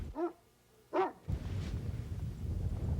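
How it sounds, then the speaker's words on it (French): A dog gives two short, clear barks close by, about a second apart, then a low rustling background continues. "Un chien qui jappe."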